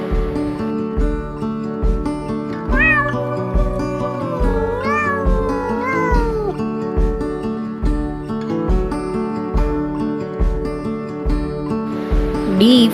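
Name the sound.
cat meowing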